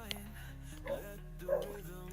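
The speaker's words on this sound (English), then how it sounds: "My dog is going off its head." A pet dog gives two short, faint barks some way off in a quiet room, separated by a brief pause.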